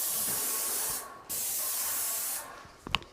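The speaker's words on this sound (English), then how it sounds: "it's a game changer to spray woodwork especially" A paint spray gun hisses steadily while coating woodwork trim such as skirting boards, in two long bursts separated by a brief pause, then a few light clicks and knocks as the spraying stops.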